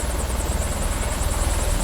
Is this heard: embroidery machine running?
no